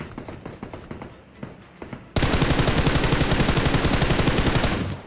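Video game gunfire: a few scattered single shots at first, then a sudden sustained burst of rapid automatic fire, loud and dense for about three seconds before cutting off.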